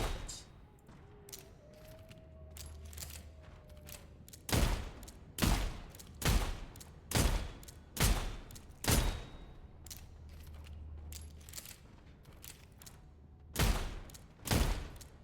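A rank-zero gun fires again and again during a first-person shooter game, with loud, evenly spaced single shots in a steady rhythm after a quieter opening, then two more shots at the end.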